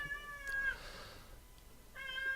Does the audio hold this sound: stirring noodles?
no